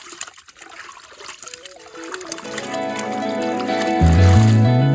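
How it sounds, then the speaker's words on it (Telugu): Water runs and splashes steadily while raw chicken is washed for a village biryani cooked outdoors, building to a fuller, louder gush near the end, with no talk. "ఇప్పుడే మొత్తానికి అయితే చికెన్ వాష్ చేస్తుండు"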